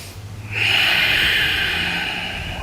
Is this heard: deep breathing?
yes